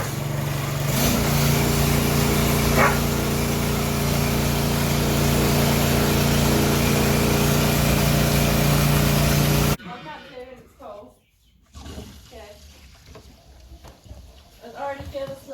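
A water pump runs under high pressure on a New Zealand calf-rearing farm, a loud steady mechanical drone that cuts off abruptly partway through, leaving quieter shuffling and voices.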